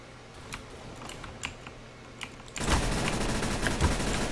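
In the video game CS:GO, keyboard keys click lightly before a gun opens up in a loud, sustained rapid-fire burst that fills the rest of the moment.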